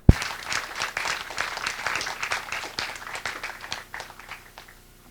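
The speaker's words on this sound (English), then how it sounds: "I'd like to give her a round of applause for how much work she's doing." Audience at a community talk on Kauai claps in a lively burst of applause that starts sharply, holds for a few seconds, then tapers off to quiet, with no talk over it.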